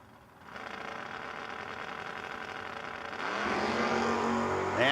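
Drag race cars, including a Chevrolet Camaro, roar steadily at close range before a second, louder engine surges in and builds toward a high rising pitch; no one talks over it.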